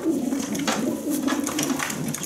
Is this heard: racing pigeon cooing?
yes